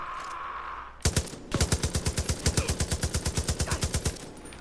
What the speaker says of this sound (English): This gun's so inaccurate, it's not firing straight.